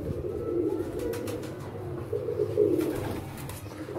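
Domestic pigeons in a loft cooing in soft, repeated throaty rolls, close by and continuous, with occasional faint rustles in the background.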